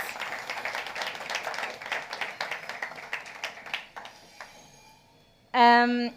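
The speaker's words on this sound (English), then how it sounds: "I would like to ask for a big round of applause for everyone who's been working for these 2 days." A conference audience at a Web Summit preparation hangout gives a round of applause. The dense clapping holds for about four seconds, then tapers to scattered claps before a short bright electronic chime rings out at the end.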